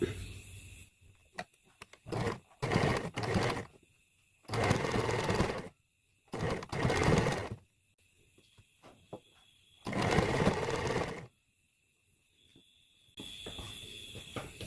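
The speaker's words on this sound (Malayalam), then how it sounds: "ഞാനിവിടെ നെക്ക് ഒരു വൈറ്റ് ലേസ് വെച്ച് തയ്ക്കാനാണ് നോക്കണേ" Sewing machine stitching white lace onto the neckline of a nighty, running in several bursts of steady, close mechanical whirring separated by quiet pauses as the fabric is repositioned.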